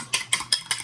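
A fork scrambles egg yolks in a bowl, giving four quick, evenly spaced clinking taps close by.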